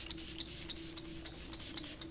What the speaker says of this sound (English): Then I'm going to take my Morphe setting spray.